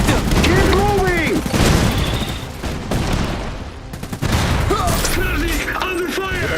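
Rapid bursts of machine-gun fire and heavier booms rattle through a World War-style real-time strategy battle in Iron Harvest, loud and close, overlapping shouted voices.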